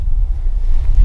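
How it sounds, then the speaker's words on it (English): Strong wind roars and buffets the microphone outdoors in a woodland, a steady low rumble with no voices. "Yes, super windy out."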